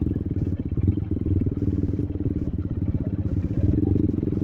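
Motorcycles rumble steadily through rush-hour street traffic on a city street in Bacolod, their engines a continuous close droning putter with faint clatter of surrounding traffic.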